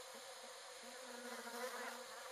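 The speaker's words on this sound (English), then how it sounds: "The bees would fly in and they would record into these little microphones." Steady, continuous buzzing of bees filling the space, a dense insect drone with no voices, even and close throughout.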